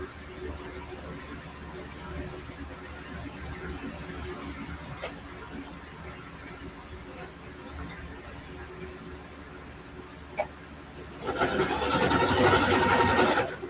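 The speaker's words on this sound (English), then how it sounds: "And then I'm going to sew a straight line." A home sewing machine runs a straight line of stitching, a steady mechanical whir that starts up loud and near late on, after a stretch of low background hum and faint handling.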